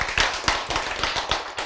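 A church audience claps in a quick, even rhythm, the sharp hand strikes landing close together in a short, lively burst with no talking over them.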